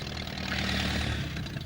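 Alf Thompson's farm tractor engine runs in a steady, low, throbbing idle, close and even throughout, with no talk over it.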